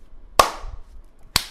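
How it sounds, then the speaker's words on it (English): Two sharp, loud hand claps stand alone, spaced about a second apart, each with a brief ringing decay in a quiet room. "you have a more manly clap than I do"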